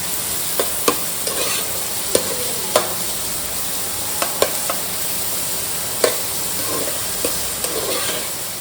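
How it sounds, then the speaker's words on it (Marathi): Chopped onion sizzles in hot oil in a pan, a steady frying hiss broken by the occasional sharp scrape and clack of a spatula stirring. "आपण जो हा कांदा चिरलेला आहे तो कांदा त्यामध्ये टाकायचा आहे आणि चांगला परतवून घ्यायचा आहे"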